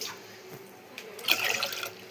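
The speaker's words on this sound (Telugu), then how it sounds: "దానికి సరిపోనికి నీళ్ళు పోస్తున్నాం" Water pours into a pot of mung lentils for a lemon dal soup, a soft splashing stream that swells briefly near the end of the short burst.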